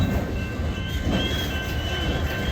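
A DeQueen and Eastern Railroad train, GP-type diesel locomotive hauling cars, rolls along the main line near Valiant, Oklahoma, with a steady low rumble and faint wheel squeal throughout.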